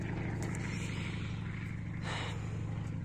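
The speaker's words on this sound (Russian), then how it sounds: "Какой-то такой маломощный самолетик, короче." A small, low-powered propeller plane of the crop-duster kind flies overhead. Its faint, steady droning hum carries on without a break.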